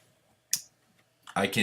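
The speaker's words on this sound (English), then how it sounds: "I'll press O" A single key pressed on a computer keyboard while editing photos in Lightroom, one sharp close click standing alone before a voice starts speaking.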